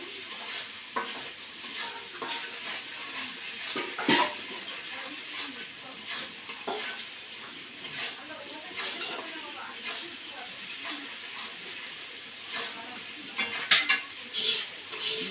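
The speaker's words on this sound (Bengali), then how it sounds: "পরিমাণ মতো জিরার গুঁড়া দিলাম" Cumin powder is stirred through a frying pan while it sizzles and hisses, with frequent scraping strokes and a few louder clanks of utensil on pan. The stirring runs unevenly and close for about fifteen seconds.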